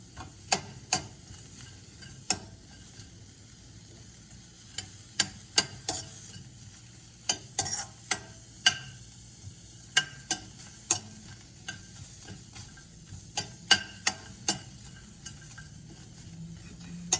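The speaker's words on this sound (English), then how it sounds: "Let's roast the onions a little bit." Onions roasting without oil in a pan for a millet upma with vegetables, heard as a soft steady sizzle broken by frequent sharp little ticks and pops of a utensil, fairly quiet and close, no voices.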